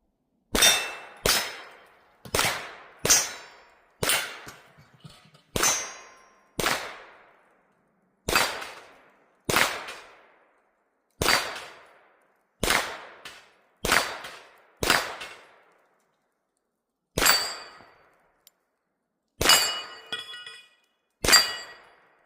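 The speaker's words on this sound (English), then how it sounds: "let's go shoot some steel" Ruger PC Carbine Backpacker rounds striking steel targets outdoors: a long series of about sixteen sharp, ringing metallic clangs, evenly spaced then slightly irregular, each with a short decaying ring, with no talking.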